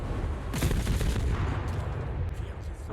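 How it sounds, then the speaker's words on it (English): Naval guns on the ship Smolensk firing in World of Warships, a run of booming salvos heard at moderate distance against a steady background rumble of battle. "There's the Smolensk banging away with his guns"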